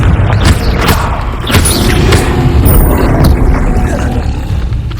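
A Confringo explosive spell going off in Hogwarts Legacy: a series of loud, close booms and thuds over a rumbling, busy game soundscape, several impacts following one another.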